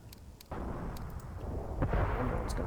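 Gunfire and artillery rumble through a WWII Eastern Front video game battle, with faint distant pops at first, then a denser, louder roll of shots and booms building over the last two seconds.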